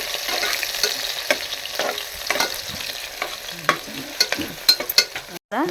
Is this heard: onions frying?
yes